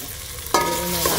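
Garlic hits a hot pan with a sudden loud sizzle that keeps frying steadily after a quiet start, cooking for a miso sinigang with grouper.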